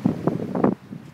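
Cold, gusty wind at a half marathon in the Hamptons buffets a microphone in low rumbling bursts, close and uneven, easing off toward the end.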